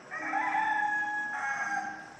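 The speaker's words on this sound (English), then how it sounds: "Roosters going off." Roosters crow outdoors near a deck, a sustained crow holding steady tones across the whole stretch, fairly close and clear with no talk over it.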